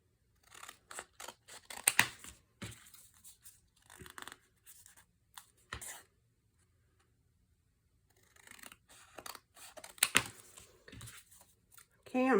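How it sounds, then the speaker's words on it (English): Scissors trim the ends of paper strips for an altered paperclip decoration, giving several short snips and paper rustles in bursts, close up, with quiet gaps between. "I'm going to trim this end up a little bit just to clean that up"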